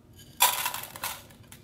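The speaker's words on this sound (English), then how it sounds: "I'll go ahead and add my 1 cup of rice that was measured in the included cup." Dry white rice, one cup, pours into an Aroma 6-cup rice cooker's metal pot in a quick rattling rush, then a smaller trickle follows.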